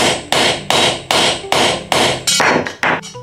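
Repeated loud, close hammer strikes while assembling a modular trolley shelf, about eight blows in steady rhythm that speed up into a quicker cluster near the end, with no talking.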